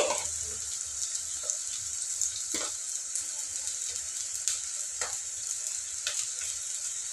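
Onions frying in a pan for a mushroom curry give a constant bright sizzle, close and steady, with a few soft clinks and stirring knocks and no talking.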